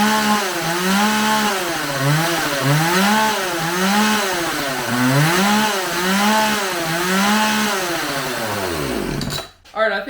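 A freshly tuned Homelite 4620c gas chainsaw running close by, its engine revving up and down in a steady repeating cycle before cutting off abruptly near the end.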